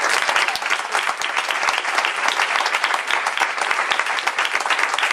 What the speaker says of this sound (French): je vous demande d'applaudir très très fort monsieur Sébastien Totache